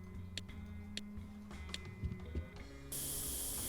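Sandblasting a tank in Tank Mechanic Simulator: scattered clicks and soft thumps, then a loud, steady, broad hiss of blasting that switches on abruptly and runs to the end.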